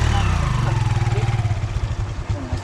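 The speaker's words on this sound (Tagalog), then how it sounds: "Yung aking makina eh." A low engine idles steadily with a rumbling, throbbing drone that wavers slightly, close by and fairly loud.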